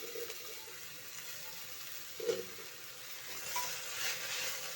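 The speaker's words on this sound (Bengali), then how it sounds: "এইবার দেখুন ফোড়নটা আমার হয়ে এসছে, আমি পাট শাকগুলো এবার দিয়ে দিলাম।" Jute leaves drop into a sizzling spice tempering in a pan, producing a soft, quiet frying hiss with a brief clunk and light stirring noises.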